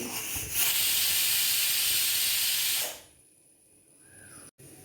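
Loud, sustained steam hiss from a pressure cooker whistle, cooking lentils and banana peel, for about three seconds, then it cuts off, leaving quiet room tone.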